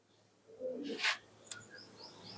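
Fancy pigeons for sale, with a soft coo followed by a couple of short chirps and faint calls, fairly close against a quiet background.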